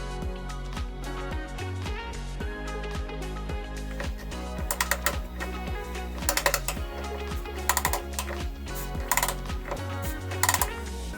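Timing gear cover bolt with washer being installed on a Toyota engine, with a steady rapid ratcheting clicks throughout and sharper metallic taps later on, close and alone.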